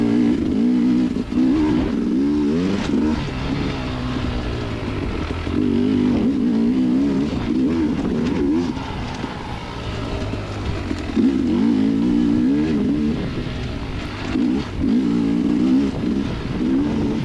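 Enduro motorcycle lapping an EnduroCross track, its engine revving up and down continuously and loudly close by, with repeated surges of acceleration between shifts throughout.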